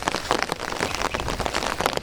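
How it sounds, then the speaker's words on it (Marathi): Steady rain patters close by on a surface at Nandur Madhyameshwar bird sanctuary, a dense even hiss of drops with no voices, brief and fairly soft. "पाऊस पण चालू आहे"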